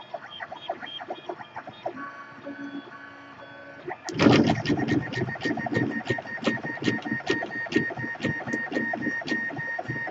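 A 3D printer runs a 40mm calibration cube at 200% speed, a steady mechanical hum that jumps into loud, fast stepper-motor buzzing with rapid rhythmic chirps and rattles as the head moves.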